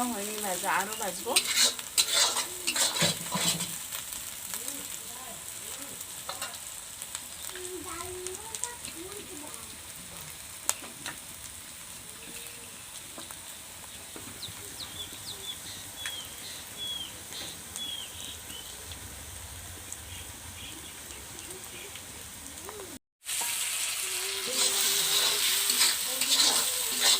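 Masala for a village-style rohu fish curry frying and being stirred in a pan, a steady close sizzle with scraping stir strokes throughout and a brief break near the end.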